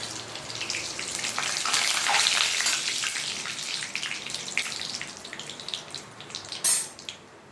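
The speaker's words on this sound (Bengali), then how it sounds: "আমি এখানে যে এলাচ ছেঁচে রেখেছি আর দারচিনি আর তেজপাতা একটু তেলের মধ্যে দিয়ে দিলাম" Crushed cardamom, cinnamon and bay leaves sizzling in hot ghee and oil in a pan, a steady crackling hiss that swells then gradually eases, with a brief louder spatter near the end.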